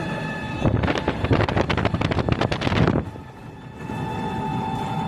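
An electric rickshaw (toto) travels along an open, clear road, with loud gusting wind buffeting the microphone for a few seconds before easing into a quieter hum of motion.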